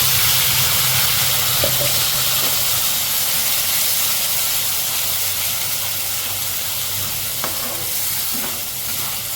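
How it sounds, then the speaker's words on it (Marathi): Ground masala sizzles steadily in about two ladles of hot oil in a kadai for Khandeshi chole, a loud, continuous frying hiss with faint stirring scrapes and no talking. "हा मसाला 2 मिनिट असा मस्त फ्राय करून घेऊया तेलात"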